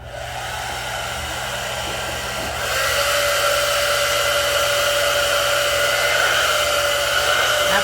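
A handheld hair blow dryer runs while a lace front wig is styled: a steady, close, airy whine that becomes noticeably louder and stronger partway through and then holds, alone with no speech.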